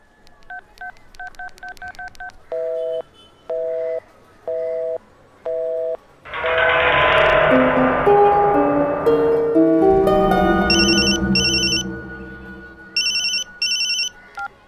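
A telephone keypad beeps out a string of dialing tones, then a rising burst of tones and a ringing signal follow, ending with a pair of repeated high electronic rings, loud and close with no talking.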